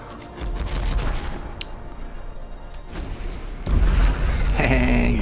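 Missile launches and explosions in the VR space shooter Ghost Signal, with dense rumbling booms and bursts of fire that swell louder toward the end, layered over continuous game noise.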